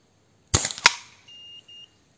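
A rifle fitted with a 480mm Fiora barrel fires during a 48-metre grouping test: one sharp, loud report with a quick second crack, followed by two short electronic beeps.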